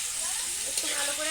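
Chicken frying in white oil with pre-fried cauliflower, capsicum and carrot for egg chicken chowmein, a steady close hiss of sizzling that runs without a break for a short moment.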